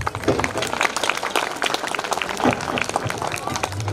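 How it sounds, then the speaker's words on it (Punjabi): A school audience at an annual prize distribution function in Punjab applauds steadily, with dense, loud clapping and crowd noise filling the space throughout. "ਜ਼ੋਰਦਾਰ ਤਾੜੀ ਦਿਓ ਇਹਨਾਂ ਬੱਚਿਆਂ ਲਈ"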